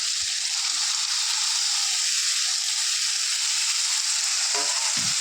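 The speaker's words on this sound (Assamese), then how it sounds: "এয়া বিলাহীখিনি দি দিলোঁ ইয়াতে ধুনীয়াকৈ লৰাই চৰাই দিম" Tomatoes sizzle in a pan with bottle gourd, salt and turmeric, a steady soft frying hiss that continues alone with a few light stirring clinks near the end.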